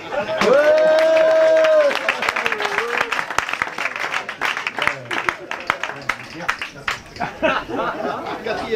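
Audience clapping after a comedic memory feat, with a sung or drawn-out voice at the start, then scattered claps mixed with chatter and chuckling.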